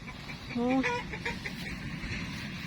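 A chicken in a garden lets out a short, clear clucking call, close and distinct over quiet outdoor background, with faint talk nearby.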